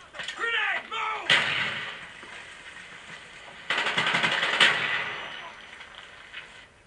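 Two heavy blasts of a grenade explosion in Call of Duty Black Ops boom loudly a few seconds apart, each trailing off in a rumbling decay, after a shouted voice.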